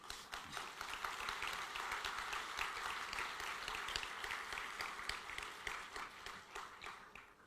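A summit audience breaks into sustained, dense applause for a prime minister's remark about mobility technology, steady and fairly distant throughout before tapering slightly at the end.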